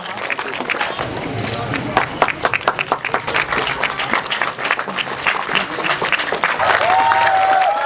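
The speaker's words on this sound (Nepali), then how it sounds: "जोरदारले ताली हर्षित बन्दै ताली बजाइदिने म सम्पूर्ण अनुरोध गर्न चाहन्छु" Audience applause at a karate championship closing ceremony in Kumai, Nepal, steady and dense clapping that holds for several seconds and swells toward the end.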